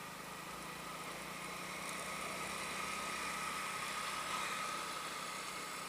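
A learner's motorcycle engine runs steadily while riding at about 20 km/h, a continuous mid-pitched hum and drone with wind rumble, fairly constant in loudness.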